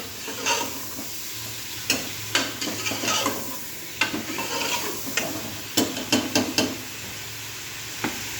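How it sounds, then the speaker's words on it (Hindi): One kilogram of beef pieces browns and fries in oil with a continuous close sizzle, punctuated by sharp scrapes and clacks of a spoon stirring against the pot at irregular intervals. "इसको हम अच्छे तरीके से इसी ऑयल में ब्राउन कर लेंगे, थोड़ा सा फ्राई कर लेंगे।"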